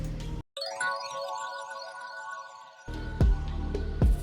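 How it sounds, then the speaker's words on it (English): Kingdom accent sample from the Producer Grind Cadence kit: a bright chime-like tone rings out and sustains in layered harmonics, followed by a fuller section with a couple of deep hits, with no voice over it. "It's the Kingdom accent."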